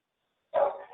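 A dog barks once, then lets out a shorter second yip, close and fairly loud, breaking in after half a second of silence during a town council meeting.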